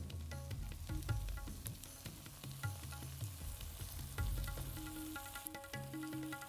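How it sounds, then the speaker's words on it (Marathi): Okra frying in oil in a kadhai, a close, steady, loud sizzle with scraping stirs from a spatula, and no one talking. "भेंडी टाकून थोडी फ्राय करून घेऊया."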